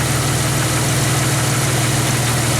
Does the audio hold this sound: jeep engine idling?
yes